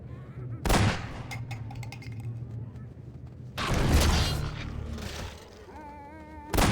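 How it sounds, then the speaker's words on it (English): Grenade explosions in the VR game Half-Life 2 in Ravenholm, two loud, sharp booms with rumbling tails separated by a quieter stretch of game ambience, and a third burst starting at the end. "I shot a grenade by mistake"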